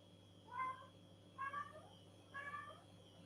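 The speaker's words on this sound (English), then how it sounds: "there's a cat" A cat meows three times at a steady pace, short clear calls standing out faintly against a quiet indoor hum.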